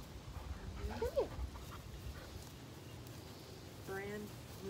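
Brand new puppy panting softly with a couple of brief high whimpers, faint against a quiet room with some low background murmur.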